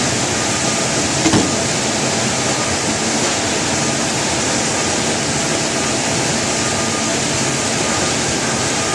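Food processor motor running at a steady, loud whir while slicing and chopping onions, a continuous even drone with one brief click near the start and no voices.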